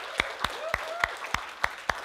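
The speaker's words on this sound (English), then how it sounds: "can we just give God a hand clap of praise" Congregation in a church giving a hand clap of praise: seven sharp, evenly spaced claps with a faint undertone between them.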